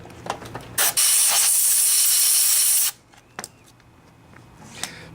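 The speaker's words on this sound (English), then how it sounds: "I'm going to spray some carburetor cleaner in here to clean out the area." Carburetor cleaner sprayed into the carburetor of a Honda lawnmower, one loud continuous hiss lasting about two seconds, close up, with small clicks and handling noises before and after.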